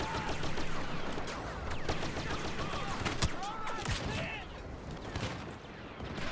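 Blaster volleys from a barrage ability in Star Wars Battlefront during a battle with droids, a dense continuous fusillade of rapid shots and impacts filling the whole stretch with busy battle noise underneath.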